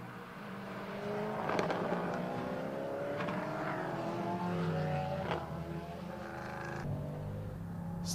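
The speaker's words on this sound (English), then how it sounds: "I will be quiet as the car accelerates out of turn 1." A 5-litre V8 race car accelerates out of turn 1 at Estoril, its engine note climbing steadily through the gears in a smooth, fairly gentle rising drone with brief shift breaks, sustained and close throughout.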